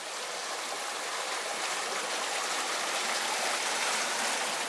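An underground stream in a cave, its water rushing steadily in a dense, even roar that fills the space, close and continuous throughout, with no voices.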